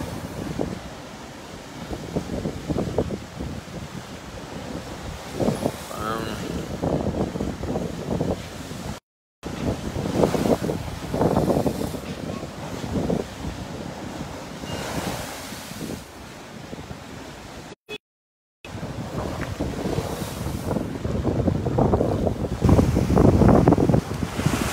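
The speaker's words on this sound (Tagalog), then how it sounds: "medyo kusog na ang hangin din dagko na ang baut." Strong wind from Typhoon Ambo batters the microphone while big waves crash and surge along the shore at Naval, loud and continuous with brief dropouts and no talk.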